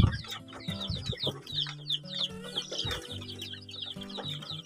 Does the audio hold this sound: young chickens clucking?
yes